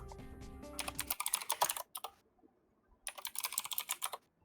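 Quick bursts of typing on a computer keyboard, close and crisp, with rapid clacking keystrokes in two runs separated by a short quiet pause, after a brief bit of background music at the start.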